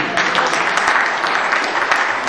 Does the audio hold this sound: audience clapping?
yes